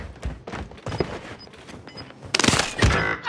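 Gunfire from Call of Duty Warzone, including a sniper shot, sounds as sharp, loud reports scattered across the span, with a heavier burst of shots near the end.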